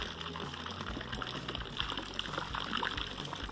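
An air-driven water pump pushes water, and bubbles rise at the spot where the pump sits, giving a steady gurgling, burbling wash of water and air with no speech.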